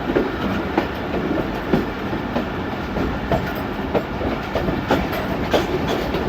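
A Pakistan Express train crosses from a loop line onto the main line with a steady rolling rumble and regular clacking wheel beats over rail joints, loud and close.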